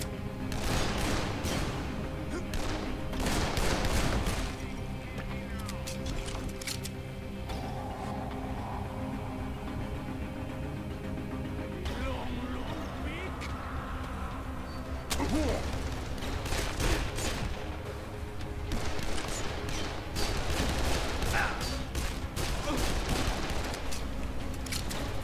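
Sustained gunfire in Dead Island: Definitive Edition, bursts of rapid shots and heavy booms rattling almost continuously for around twenty-five seconds, loud and close, with short lulls between volleys.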